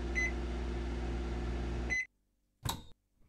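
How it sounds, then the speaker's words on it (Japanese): A microwave oven hums steadily for about two seconds in the Cooking Simulator video game, with a high beep near the start and another as it stops, then a short clunk of the door after a pause. "これ電子レンジだよ。"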